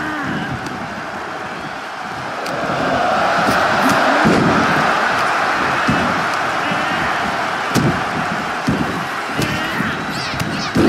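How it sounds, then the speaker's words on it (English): Wrestling arena crowd during a Royal Rumble match in the WWE 2K24 video game, a continuous roar that swells louder partway through, with scattered thumps and shouts over the dense crowd noise. "Listen to this crowd count the next one in."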